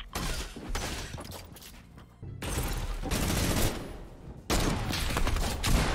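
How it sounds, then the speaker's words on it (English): Minigun fire in an online shooter game comes in long, dense, roaring bursts. Three sustained volleys are split by short gaps, loud and close, with no voices over them. "Oh no, they have a minigun."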